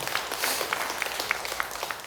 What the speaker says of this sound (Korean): 이 대목에서 박수 한번 쳐야 되는데.